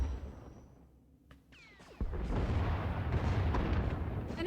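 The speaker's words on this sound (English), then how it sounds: "Enemy is firing. Turbo lasers, missiles, and what looks like transport pods." A warship fires turbolasers and missiles in the space combat game Star Wars: The Old Republic. After a quiet hum, a sharp whooshing launch leads into a sustained, heavy rumbling barrage of blasts.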